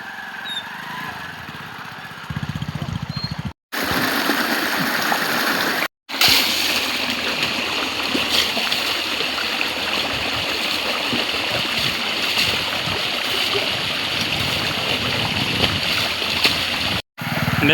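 A motorbike is washed down with water: a steady, close hiss of spraying water splashes over the bike for a long stretch, broken by a few short cutoffs, with a faint motor hum underneath.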